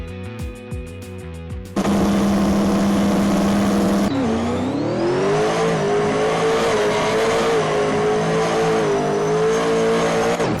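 Twin-turbo Pro Modified drag car on a quarter-mile pass, its engine roaring loud and close after a short quieter start, holding a strong steady high-revving drone with a shift-like dip near the middle.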